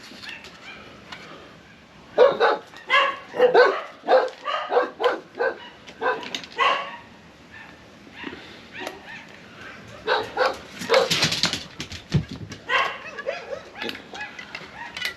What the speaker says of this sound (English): all the dogs in the area like to talk to each other